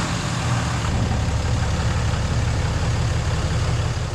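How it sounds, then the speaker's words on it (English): A truck engine running while the truck backs up, a loud, steady low rumble of idling close by with constant level throughout and no speech. "I'm just going to back the truck up"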